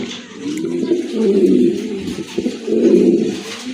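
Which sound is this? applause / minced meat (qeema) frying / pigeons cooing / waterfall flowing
pigeons cooing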